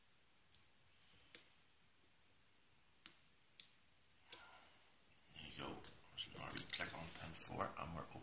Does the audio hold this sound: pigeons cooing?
no